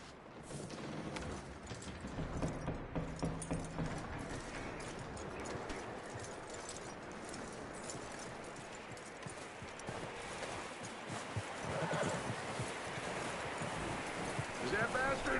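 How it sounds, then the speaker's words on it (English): A horse in Red Dead Redemption 2 clip-clops with a steady hoof rhythm at moderate distance, with faint rustling around it and occasional voice-like sounds. "That looks like a decent horse."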